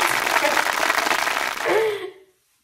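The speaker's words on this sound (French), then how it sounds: "Applaudissements." Brief applause from a small group, a dense patter of claps that fades out after about two seconds, ending in near silence, with a voice rising briefly near the end.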